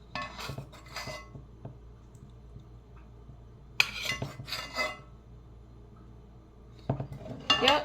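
Glass food containers and cutlery clink and rattle in a kitchen while a simple French onion soup is portioned out, with bursts of close clatter separated by quieter handling sounds and no talking.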